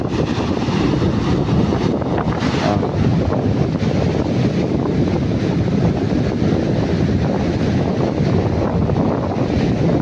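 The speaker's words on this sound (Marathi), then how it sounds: "लाट बघा मित्रांनो" Sea waves break on a Konkan beach in a continuous loud surf roar, mixed with heavy wind buffeting the microphone, and no one speaks.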